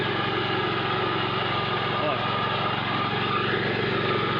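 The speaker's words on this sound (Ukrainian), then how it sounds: "Для цієї роторки це не страшно. Ріже прекрасно." A rotary mower cuts through bushes and brush, its engine holding a steady, moderately loud buzzing drone with a low pulsing rumble throughout.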